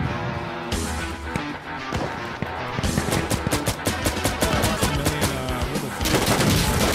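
Rapid gunfire bursts from the video game Tarkov, dense and loud with repeated overlapping shots and booms building toward a sustained volley at the end.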